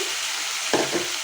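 Frying ridge gourd and potato in a pan give a steady hiss, with a brief sharper sizzle surge as a little water is poured in near the end.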